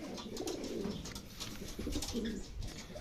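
Racing pigeons cooing softly and repeatedly, their low burbling calls overlapping amid a dense flock, with some faint fluttering and background clatter.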